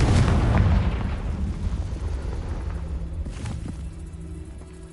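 Confringo explosive spell blast in Hogwarts Legacy, one loud booming burst at the start that rolls off into a fading low rumble, with faint game sounds after.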